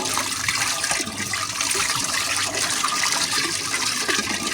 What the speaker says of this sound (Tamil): கொஞ்சம் தண்ணி ஊற்றி இதை ஆட் பண்ண போகிறேன்.